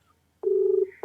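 A phone call ringing during a prank call: a single clear electronic ring tone holds for about half a second after silence, then a second ring begins, close and alone without speech.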